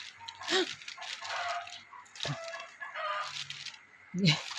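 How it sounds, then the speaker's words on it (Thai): A rooster crows and chickens cluck nearby at a rural home, short strained calls at the start and end over a busy background, with someone talking. "ไก่ขันตลอดเวลาค่ะ"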